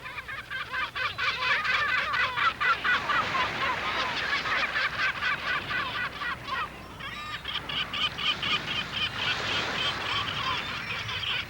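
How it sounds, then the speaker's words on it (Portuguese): Seabirds circling over the sea where an orca hunts prey, a dense, continuous chorus of many overlapping calls, loud and layered throughout, with a brief lull partway through before the calling swells again. "As gaivotas voam em círculos à espera dos restos."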